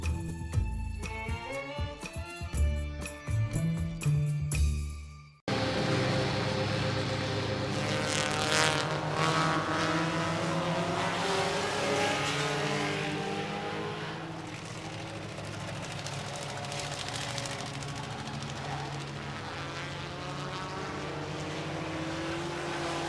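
Race cars roar around the Seven Rivers Racing track in a loud, continuous engine drone that follows a brief burst of music, with no voices over it.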